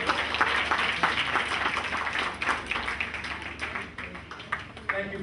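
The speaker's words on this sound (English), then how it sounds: "Let's give Angela a round of applause" Applause from an audience of seniors at a magic show, a dense wash of clapping hands that holds steady throughout with a few louder bursts.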